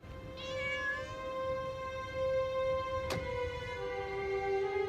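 A cat meows in one long, drawn-out cry that holds steady and fairly loud throughout while it is chased indoors from under the beds through the rooms of a house, with a single sharp knock partway through.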